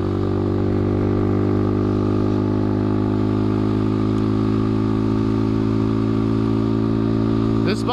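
A Honda Grom motorcycle fitted with a new exhaust rides along steadily, its engine droning loud and constant throughout with a rider's voice faintly present over it.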